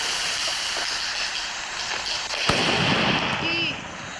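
A single sharp bang from a 3x3 firecracker cuts through steady background noise, followed by a brief hissing rush.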